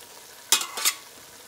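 Eggs are stirred in a pan on the stove, producing two quick scraping swishes close by over a soft background.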